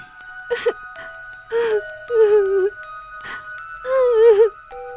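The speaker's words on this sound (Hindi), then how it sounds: "कमरे में किसी और के रोने की आवाज आने लगी।" Someone crying in a room in an animated Hindi horror story: several short wavering, moaning sobs come in separate bursts, fairly close and clear, with a faint high ringing tone held underneath.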